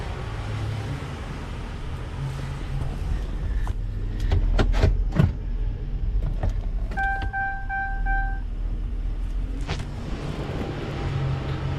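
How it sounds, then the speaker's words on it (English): A Chevy Tahoe with a newly installed transmission idles steadily as a few dull clunks mark the gearbox engaging drive, followed by a short electronic chime tone over the engine rumble. "Heard it engage drive"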